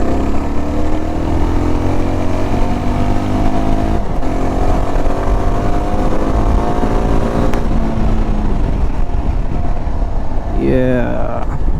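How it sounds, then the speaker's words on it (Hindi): A 2025 Yezdi Adventure motorcycle engine idles steadily and close by, with rising and falling rev sweeps; near the end a sharper blip of throttle climbs quickly in pitch before dropping back. "अब थोड़ा सा मैं यहाँ पे है ना थोड़ा रेव करके देखता हूँ,"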